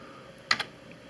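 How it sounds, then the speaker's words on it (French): A single key press on a computer keyboard, one quick double click of the key going down and back up, close and fairly crisp against a quiet room. "On appuie sur la touche F1 de son clavier."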